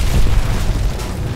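A grenade detonates in the video game Gears of War, a loud, deep, rumbling boom that fills the short moment with no voices over it.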